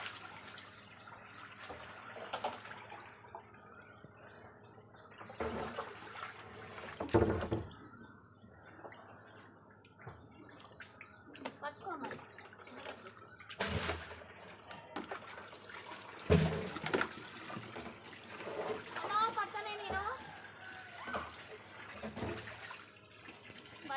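Water gushes from a pipe fed by a pump motor at home, a continuous low splashing flow with irregular louder surges and drips, no talk.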